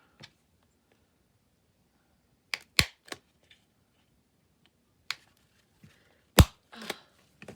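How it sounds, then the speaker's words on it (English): A handheld paper punch snaps through thin paper in a few sharp, isolated clicks spaced seconds apart, loudest near the end, with quiet gaps between. "Can you hear that snap, guys?"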